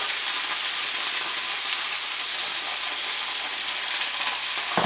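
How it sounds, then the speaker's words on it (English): Pork loin frying in a pan gives off a loud, dense, unbroken sizzle close up, with no voices over it. "Usually you fry them up this side, and they get brown and they will be cooked."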